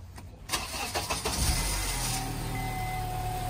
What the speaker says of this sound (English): we're gonna put the negative terminal back on and we're gonna start the car.